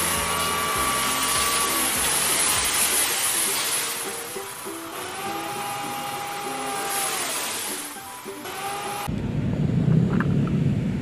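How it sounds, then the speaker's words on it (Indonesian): A sand-hauling dump truck drives past with a steady engine drone and rising-then-falling whine, loud and fairly close, before the sound cuts abruptly to a lower rumbling noise near the end; no voices. "Wow, lihat teman-teman, ada mobil truk pasir."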